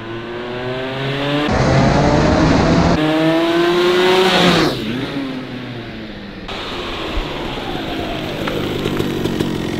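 A Rotax Max 125cc kart engine revs hard in repeated rising bursts, a loud buzzing two-stroke whine that climbs, drops back and surges again, close by with no voices over it.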